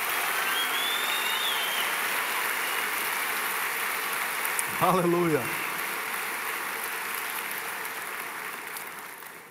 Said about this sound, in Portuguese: pode aplaudir Jesus, Ele é digno.